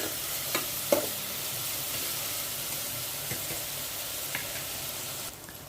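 Onions fry in a pan for a methi chicken curry, a steady close sizzle with a few sharp stirring knocks early on and the hiss fading slightly near the end.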